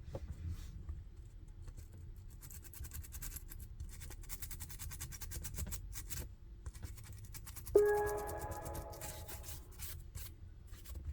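Quiet, steady scratchy scrubbing of toothbrush bristles in a laptop charging port, continuing for several seconds, with a brief faint tone partway through.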